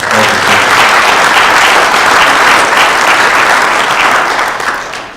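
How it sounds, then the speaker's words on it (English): Sustained audience applause fills a sheriff candidate forum in Hamilton County, a loud, dense wash of clapping holding steady for several seconds before easing slightly at the end. "You may applaud. I'll let you guys applaud."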